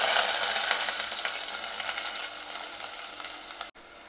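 Sliced medium onions sizzle in hot coconut oil with mustard seeds, a steady dense frying hiss that fades a little over a few seconds and cuts off abruptly near the end.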